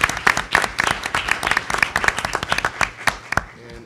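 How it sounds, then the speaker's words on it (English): People at a board of education meeting clap for students, a modest round of distinct individual claps close to the microphone, irregular and tapering off with a voice starting at the end. "So I'll give them another round of applause for your job."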